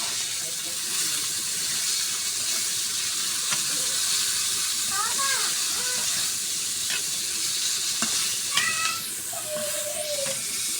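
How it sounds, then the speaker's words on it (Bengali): Dried fish frying with spices in a pan, a steady close sizzle running throughout, with a few light clinks and stirring scrapes and a brief faucet-like whistle near the end; no one speaks. "শুটকি মাছটা আমার মশলার সাথে সুন্দর করে ভাজা হয়ে গেছে"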